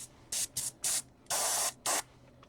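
Short bursts of hissing spray from a hobby airbrush running on canned propellant, five separate blasts of varying length with the longest in the middle, close and crisp with quiet pauses between them.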